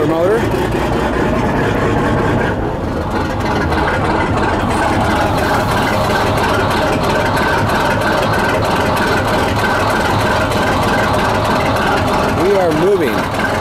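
Big old Caterpillar diesel engine on a fishing and crabbing boat, running with a steady, loud, low rumble and hum throughout, with people talking over it.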